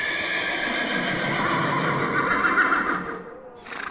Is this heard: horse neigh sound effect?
yes